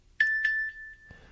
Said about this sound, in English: These chimes suck so far.